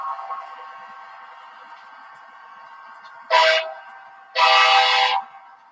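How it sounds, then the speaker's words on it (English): Model train locomotive with working ditch lights sounding its horn in two bursts, a short blast then a longer one, over a quiet running hum, close and fairly loud with no talking. "You guys see the train?"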